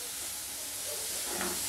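Onions softening in a hot pan give a soft, steady sizzle and hiss that stays quiet and continuous throughout, with no voices over it.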